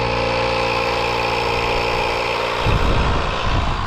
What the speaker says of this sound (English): It's a digital tyre inflator. 30 odd quid, so we'll get some air in